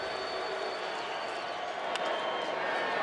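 Baseball stadium crowd at a 2010 NLDS playoff game between Cincinnati and Philadelphia, a steady, broad roar of cheering and yelling that fills the whole stretch, with a faint voice beneath it.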